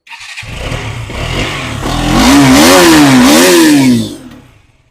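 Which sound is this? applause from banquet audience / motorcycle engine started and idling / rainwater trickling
motorcycle engine started and idling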